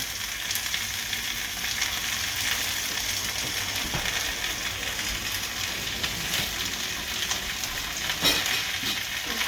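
Okra sizzles steadily in hot oil in a pot for a Guyanese-style dish, with a dense, continuous frying hiss and occasional scrapes and clinks from stirring, close up and without talk.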